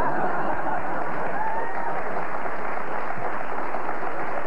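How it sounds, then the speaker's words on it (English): Studio audience at a 1994 television talk show breaking into applause; dense, sustained clapping fills the whole stretch at a steady level, with faint crowd murmur mixed in. "You're applauding this?"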